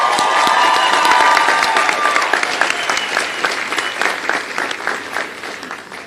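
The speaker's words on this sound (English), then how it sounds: "Let's give everyone a round of applause." A graduation ceremony audience applauds with scattered cheers, dense clapping loud at first and gradually thinning toward the end.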